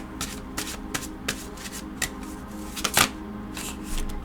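Tarot cards being shuffled and drawn, a run of soft papery riffles and slaps at uneven intervals, with one sharper card snap near the end, close and fairly quiet.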